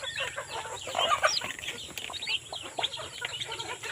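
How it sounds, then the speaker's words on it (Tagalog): Chickens cluck and chatter continuously in a backyard poultry farm, a busy flock close by with overlapping calls and no talking. "Then ito yung mga manok natin"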